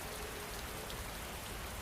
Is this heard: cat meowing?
no